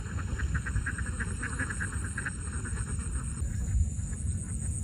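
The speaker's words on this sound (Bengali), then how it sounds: "হাঁস তারাই নিয়ে যাচ্ছে বিলের মধ্যে দিয়ে আসবে গিয়ে" Ducks quack in a quick, rhythmic series at a middle distance beside a beel wetland in Chalan Beel, over a steady outdoor background.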